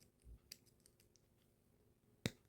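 A solar panel connector snaps into place with one sharp, close click near the end, after several faint taps and fiddling sounds in a quiet room.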